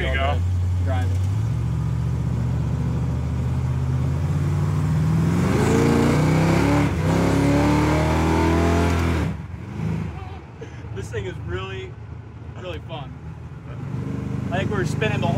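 A 1971 Camaro with a V8 engine drives along. A loud, steady engine drone rises and revs through the first part, then drops to a lower rumble while people talk over it.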